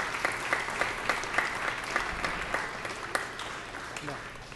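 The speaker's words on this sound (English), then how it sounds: "I think you guys should give yourself a round of applause" Crowd at a journalism broadcast awards evening applauds the nominees, a steady mass of clapping with rhythmic pulses, moderately loud and sustained throughout.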